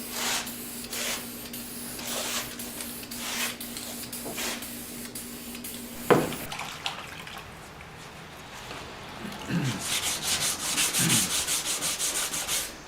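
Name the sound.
wet sanding Bondo filler with wet-or-dry sandpaper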